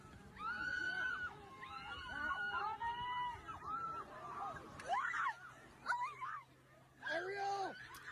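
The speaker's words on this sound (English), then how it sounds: "It's just a remote control plane over a sound of people screaming." People scream and wail in rising, falling cries over a remote control plane flying overhead, with the plane's faint steady buzz running underneath the shrill voices and a background of babble.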